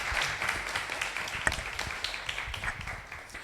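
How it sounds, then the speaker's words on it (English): An audience applauds a conference panel, a dense burst of clapping that stays fairly even for a few seconds with a few sharper claps standing out, then begins to fade. "let's just give our panel a round of applause"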